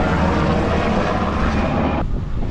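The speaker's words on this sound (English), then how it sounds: "This is at least helicopter number 4 overhead." A loud helicopter drones overhead with a heavy rumble while heard from a sailboat, the high end dropping away suddenly near the end while the low roar continues.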